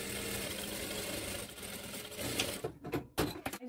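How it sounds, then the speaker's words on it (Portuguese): A sewing machine set to a short, tight stitch sews a reinforced seam along a marked line on fabric for a sunflower necessaire box. A steady mechanical hum runs for a few seconds, then breaks into uneven, stop-start stitching. "Vou baixar bem o ponto aqui da minha máquina para ficar bem fechadinho."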